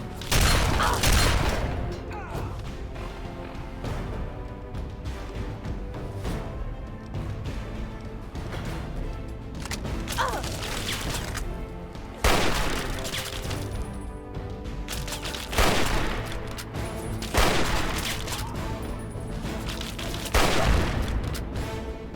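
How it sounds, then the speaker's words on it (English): Explosive weapon fire and explosions in the video game Fallout 3, loud booming blasts and bursts of gunfire repeating throughout, with a faint voice at times. "Who is shooting at me with that explosive weapon?"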